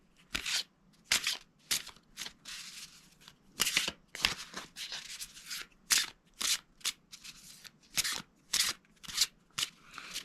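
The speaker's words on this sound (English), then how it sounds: "And I always find the Hay House cards always nice to shuffle." Repeated close shuffling of a Hay House oracle card deck, sharp papery riffles and slides coming in irregular bursts with short gaps, no voices.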